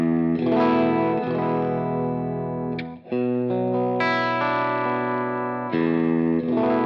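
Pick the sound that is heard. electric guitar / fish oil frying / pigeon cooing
electric guitar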